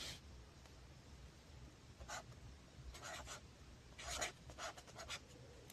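Pen writing on paper, faint close scratching strokes coming in short bursts with quiet pauses between them, alone with no talking.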